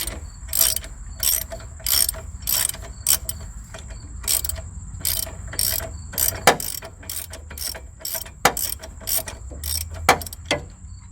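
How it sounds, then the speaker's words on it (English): Ratchet loosening bolts on a car's front strut, a series of sharp rapid clicking bursts in uneven runs, close and loud, with pauses between strokes. "let's switch over to our ratchet. Get these loose."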